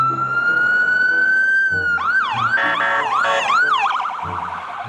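Toy ambulance siren wailing loudly and close, a steady electronic tone that shifts into rapid rising-and-falling yelps, with harmonic overtones and low rumbling underneath.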